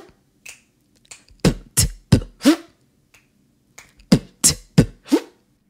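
Vocal beatbox pattern imitating a kick drum, hi-hat and zipper scratch: a few sparse mouth clicks, then two tight bursts of four sharp percussive hits each, close and dry with no talking.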